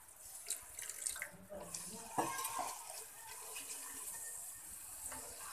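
Water is splashed into cooking masala in a pan for Punjabi-style pakora curry, making a continuous close-up sizzle and splash with light clinks from utensils.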